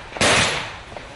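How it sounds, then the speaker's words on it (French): A single sharp gunshot cracks out during a police dynamic shooting demonstration by an assault and hostage-rescue unit, a loud close report with a short decaying tail, alone. "Démonstration de tir dynamique"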